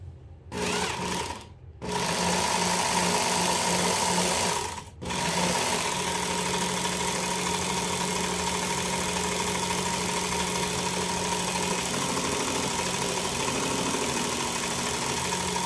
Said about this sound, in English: So I'm going to go to that next grit, and we'll work our way through these and refine that blade.